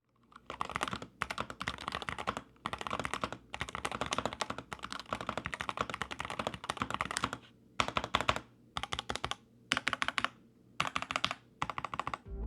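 A SteelSeries Apex Pro TKL Gen 3 keyboard with OmniPoint 3.0 switches is typed on in rapid, close, crisp bursts of keystrokes separated by short pauses, with no voices.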